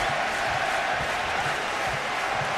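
Rugby World Cup stadium crowd at a France versus Georgia match, a broad, loud, sustained roar of cheering and chanting from a large crowd, with no gaps.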